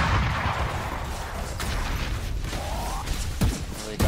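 Gunshots and bursts of weapon fire from a Valorant match in a collegiate esports broadcast, with a dense, busy mix of loud game effects and sharp cracks toward the end.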